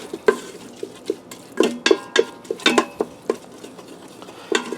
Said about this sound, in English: And I'm just stirring it around.